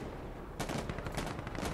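Rapid gunfire from the tactical shooter game Insurgency Sandstorm, a sudden burst of several close, loud shots in quick succession after a quiet start.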